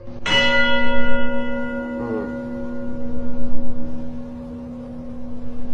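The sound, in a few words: bells chiming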